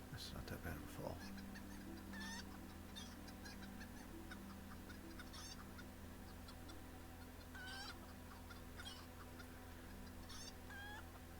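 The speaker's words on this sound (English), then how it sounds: "The chicken calls are just... they're kind of getting to me." Chickens call over and over in the distance, short honking clucks repeating every second or two over a constant low background hum and noise, with a brief voice at the start.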